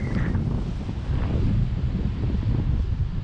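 Wind buffets the top of a swaying crane, a loud, low rumbling rush pounding the microphone without a break for a few seconds.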